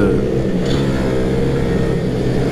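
Mini motorbikes racing through a corner in a kart-style mini moto race, a continuous buzzing engine drone with a brief rising rev, heard under an excited commentator's voice.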